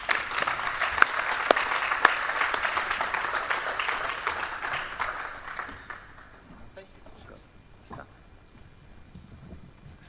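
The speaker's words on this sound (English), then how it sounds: "if we can give a big round of applause" Parents at a school information session give a full round of applause, dense and steady for about six seconds before it thins out into a few scattered claps and quiet room noise.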